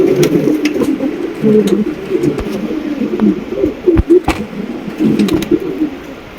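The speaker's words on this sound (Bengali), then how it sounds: "কিং কবুতর" Large, big-bodied king pigeons kept at a breeding farm coo steadily and close by, their low throaty calls overlapping without pause, broken by a few sharp clicks and wing flutters.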